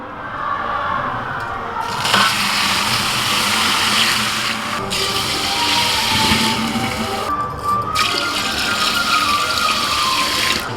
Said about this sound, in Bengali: এবার জল ঢেলে দিচ্ছি।